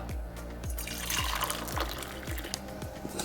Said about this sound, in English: I pre-boiled my water